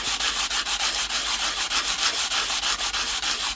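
An Irish copper penny hand-sanded while being made into a guardian bell, heard as a loud, close, rhythmic back-and-forth scratching of regular strokes, with no talking.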